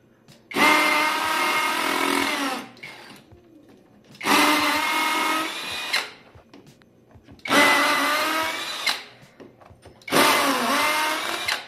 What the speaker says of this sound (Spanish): vamos a proceder a perforar con una broca de 3 octavos para concreto, igual velocidad 2, modo rotomartillo